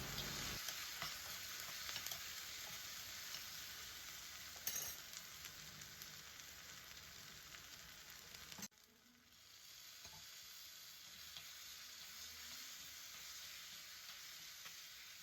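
Tadka tempering sizzles for kichadi, a steady broadband frying hiss running the whole time with a few stirring clinks, easing slightly partway through; no one talks.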